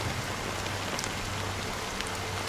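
Steady rain falling, an even dense patter of drops continuing throughout at moderate level, with no voices.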